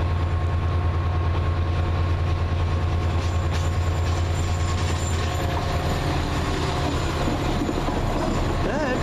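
A Class 172 diesel train at London Marylebone station, heard up close as a steady low rumble with running engine drone and faint wheel squeal throughout.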